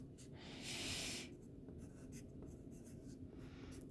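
Soft scratching of a pencil writing on paper, a faint, close, continuous scraping with a brief stronger stroke near the start, no voice.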